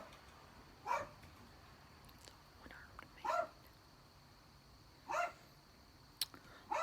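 A dog barks a few times, single sharp barks spaced a couple of seconds apart, faint and somewhat distant against a quiet background.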